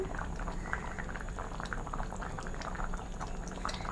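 A spoonful of ghee is poured into a thickening Kerala pazham nurukku sweet as it bubbles on the stove, with a constant soft simmering burble and small pops, quiet and close, no talking.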